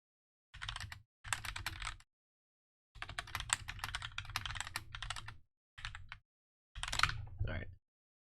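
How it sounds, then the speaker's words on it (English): Typing on a GMMK mechanical keyboard with Gateron Brown switches comes in close, quick bursts of dense clacking separated by short silent pauses, with no voice. "I'm going to type to the referee here really quick."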